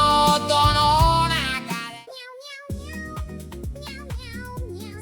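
AI-generated singing voice in Suno AI v5.5 shaped like a cat, meowing a sung melody over a music backing; loud and close, with wavering pitched meows sliding across the notes, no speech.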